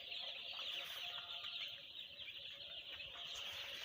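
Chickens in a winter brooder cluck and rustle softly at a distance, a faint steady bed of fowl sounds with occasional wing movement and no talking.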